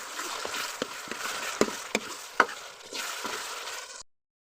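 Fresh potatoes and chopped green chilies are stirred and cooked in a pan for homemade biryani, a steady sizzle broken by several sharp utensil knocks against the pan before the sound cuts off abruptly.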